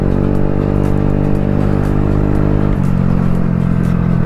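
A TVS Ntorq scooter engine revs hard and steadily, close and loud, with a shift in engine pitch partway through, no talking over it.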